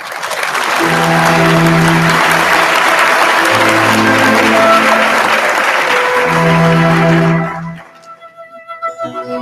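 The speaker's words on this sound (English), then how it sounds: "Another round of applause for them again" A graduation ceremony audience gives loud, sustained applause after a performance, a dense roar of many hands that swells, holds for several seconds, then fades out at the end.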